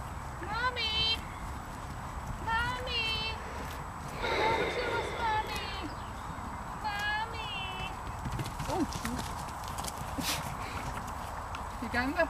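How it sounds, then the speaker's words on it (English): A herd of horses walks at the Irish National Stud, hooves clip-clopping in an irregular rhythm nearby, with occasional whinnies and people talking over the scene. "Yeah, it's a herd of horses."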